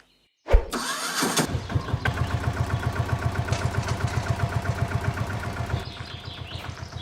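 A vehicle engine cranks briefly, then catches and settles into a steady, pulsing idle close by, running alone until it eases off near the end.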